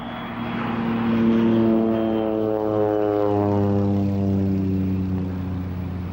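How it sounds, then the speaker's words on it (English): A propeller airplane drones overhead, its steady engine tone rising slightly in loudness then fading, with harmonics sliding as it passes. "Even planes have sometimes been utilized to increase productivity."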